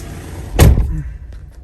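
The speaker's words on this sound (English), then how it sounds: "Let me open the door too." A Mercedes Sprinter van door opens with a single loud, close thump and clunk, followed by a short fading rattle.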